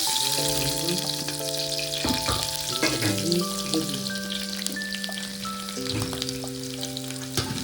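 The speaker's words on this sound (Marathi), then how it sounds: "तेल पण गरम असल्यामुळे मी टाकते कांदे" Onions drop into hot oil and fry with a dense, continuous sizzle close by, while steady tones and occasional clatter from the busy stovetop carry on underneath, with no voices.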